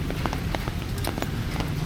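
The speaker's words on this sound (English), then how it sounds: "more rain as we continue this tour today" Steady rain falling on an open town plaza in the Philippines during the rainy season, a constant close hiss with scattered sharper drops spattering on the paving and a low background rumble, with no voices.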